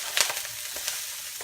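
Dandelion greens sizzle and crackle in hot oil in a pan, a steady bright hiss with a few sharper pops and no talking.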